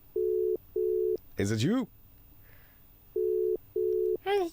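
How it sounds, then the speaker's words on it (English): Repeated electronic phone ring tones on a live breakfast radio show, two pairs of steady beeping bursts with a voice speaking briefly between them. "somebody's phone's ringing"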